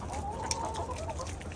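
Backyard chickens cluck softly and continuously in a short, low-level burst of fowl chatter with faint background noise.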